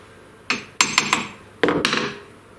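A hammer taps on parts while a CNC router is being built with standard woodshop tools. There are two short bursts of sharp, ringing strikes, about six in all, loud and close with quiet between them.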